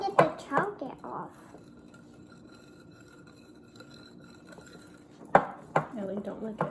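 Kids stir gluten-free brownie batter in a bowl, giving bursts of clinking and scraping of utensils against the dish at the start and end with a quieter stretch between, while voices talk in the background.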